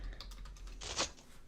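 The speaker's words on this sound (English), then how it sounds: "I can indeed see what you're typing." Quick, close taps on a computer keyboard in a short burst of typing, fairly quiet and with no voices.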